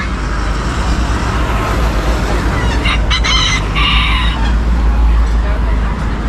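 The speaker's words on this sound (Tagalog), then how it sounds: "Dito ang daming manok oh." Chickens crowing and clucking loudly together at an outdoor pet market, with a rooster's crow standing out midway over a constant noisy background of traffic hum.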